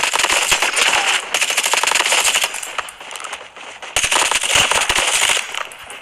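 Rapid, loud automatic gunfire in the mobile video game Call of Duty Mobile, dense bursts of shots with a short lull midway before the firing resumes just as hard.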